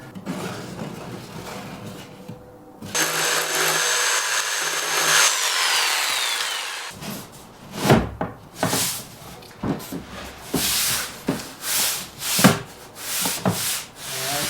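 A small wooden washer traces a contour onto scrap plywood, making a close series of rhythmic rubbing and scratching strokes across the wood after a stretch of steady workshop noise.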